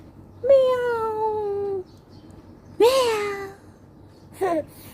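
A cat meows close by in a household setting: one long, drawn-out meow, then a shorter rising one, and a faint brief third at the end, with no talk over it.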